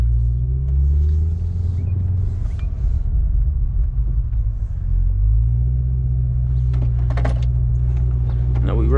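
2023 Chevrolet Corvette C8 cruising through a residential neighborhood, a deep steady engine rumble heard from inside the car that dips and rises with speed, with faint voices over it.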